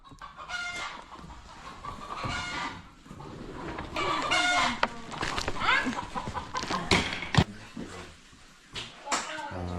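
Chickens in a Konkan village yard cluck and a rooster crows at intervals, near and fairly loud, over rustling movement and occasional voices.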